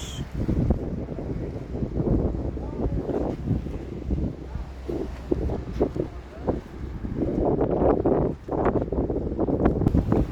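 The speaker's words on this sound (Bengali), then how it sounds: "অনেক বাতাস।" Strong wind in Malaysia buffets the microphone in heavy, continuous low rumbling gusts, with faint indistinct sounds beneath the roar.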